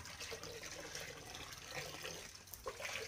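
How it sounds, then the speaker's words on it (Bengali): Sesame seeds are washed in water, with continuous sloshing and swishing close by, fairly faint and steady, with no talking. "এই যে 2-3 বার করে ধুয়ে নিচ্ছি"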